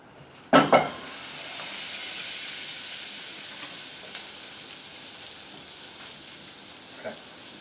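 Unsalted butter melts in a pan for a bacon pasta sauce, starting with a sharp clunk and then a steady, soft broadband sizzle that continues evenly, with a few faint ticks, and no talking.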